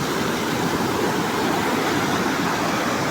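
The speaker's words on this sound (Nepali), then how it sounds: "हेर्नुहोस् त झरना" Rushing water from a small waterfall near a trout farm and restaurant below Mardi Himal in Nepal, a steady, loud, broadband roar with no talking.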